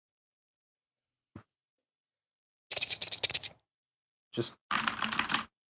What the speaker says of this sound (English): Oh, yes, they are typing.